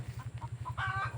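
A mother hen with her chicks gives a few faint, short clucks. They sit over a steady, low, pulsing rumble in the background.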